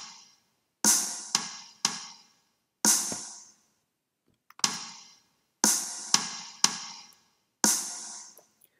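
Drum beat from a song, a sparse pattern of crisp, dry hits in short pairs and singles with gaps of silence between them, played alone.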